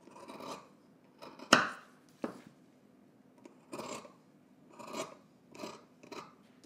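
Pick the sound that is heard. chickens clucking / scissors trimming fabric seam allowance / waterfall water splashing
scissors trimming fabric seam allowance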